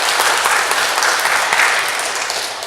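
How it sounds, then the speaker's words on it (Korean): A church congregation claps together in a loud, dense burst that holds steady and then begins to thin out toward the end. "저 뒤에 방송 담당하시는 우리 송 집사님 향해서 박수 한번 하겠습니다"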